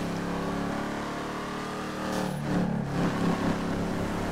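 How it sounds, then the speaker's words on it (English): A Lamborghini supercar engine in GTA 5 drones steadily, then revs up and swells louder for a moment before settling, heard alone without talk. "it's actually having a good engine, and also sound seems to be pretty much amazing"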